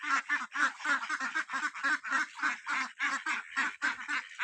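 Pet ducks outside in a village quack noisily in a steady run of rapid, evenly spaced calls, loud and close with no talk over them.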